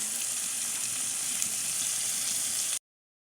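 Spices sizzle steadily in hot oil in a pan for a rui fish curry, a dense, even hiss close by with no talk, cutting off abruptly near the end.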